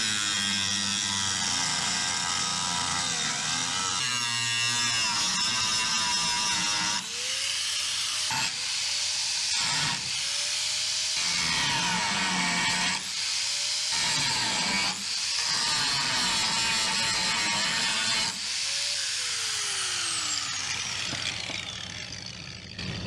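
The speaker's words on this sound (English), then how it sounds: "Now I'm going to have to do some grinding" Angle grinder working over an aluminum weld, running loud and continuous with repeated bursts where the disc bites into the metal and the motor pitch swoops as it is lifted off, several passes over about twenty seconds.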